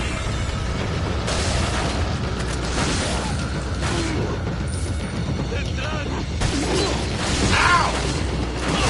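Grenade blasts and combat noise from the Resident Evil 4 video game, a steady dense roar of booms and crashes running throughout with no pause.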